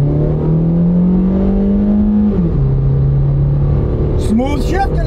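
A Honda with a 1.8 liter non-turbo engine and 340,000 miles accelerates hard from inside the cabin, its engine drone climbing steadily in pitch, dropping at a gear shift and then rising again, with someone talking over it near the end.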